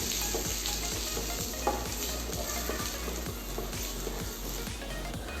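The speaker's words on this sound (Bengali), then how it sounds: "ফোড়নটা ভাজা ভাজা হয়ে গেছে" Spices, crushed cardamom and chopped ginger fry in hot oil with a steady bright sizzle, while a spatula scrapes the pan in regular rhythmic strokes close by.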